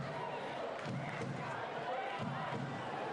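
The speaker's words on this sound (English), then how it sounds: "A bouncing crowd here at Leichhardt Oval." Crowd at a midweek A-League football match between Sydney FC and Canberra United at Leichhardt Oval, a steady roar of cheering and chanting with surges, continuous and fairly loud.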